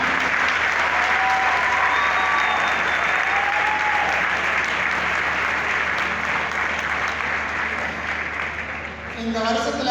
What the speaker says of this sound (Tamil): அதுக்கு முதல்ல உங்களுக்கு நீங்களே நல்ல வாழ்த்துக்களும் பாராட்டுகளையும் நல்ல சத்தமாக